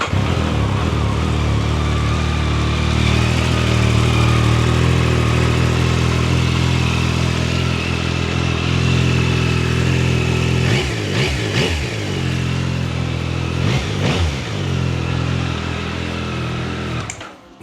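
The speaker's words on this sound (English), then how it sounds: "even though everyone knows how this bike sounds like in stock, let me just do a little comparison" Motorcycle with its stock exhaust revving close to the microphone: a loud, sustained engine drone that holds steady, then dips and surges through a few throttle blips near the end before cutting off.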